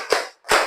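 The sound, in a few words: class of children clapping in rhythm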